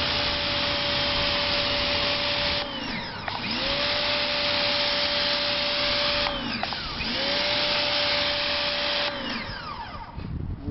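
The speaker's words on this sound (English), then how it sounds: "we do have the Ryobi power washer hooked up" A Ryobi 1600 psi pressure washer sprays dirty concrete, a loud steady hiss broken by three short pauses where the motor pitch drops and then climbs back up.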